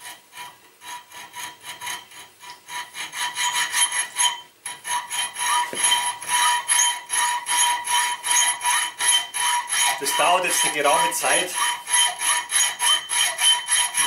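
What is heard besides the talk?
sawing into flat steel bar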